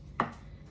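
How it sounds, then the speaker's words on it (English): A single sharp knife chop through potatoes on a cutting board in a home kitchen, one close crisp strike with a brief board thud and a quiet tail, no talking. "we're gonna get our potatoes, start cutting them up"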